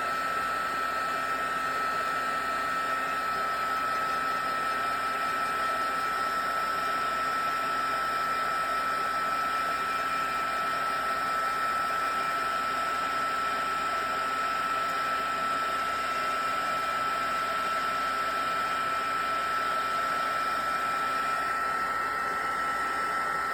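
A heat tool blows steadily to dry ink on a stamped card, a continuous loud whirring hiss with a fan tone that holds without pause for the whole stretch and no talk.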